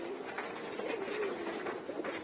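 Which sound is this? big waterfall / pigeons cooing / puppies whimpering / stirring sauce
pigeons cooing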